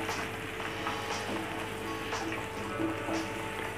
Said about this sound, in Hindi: अब भिंडी को हमें 4 से 5 मिनट के लिए फ्राई करना है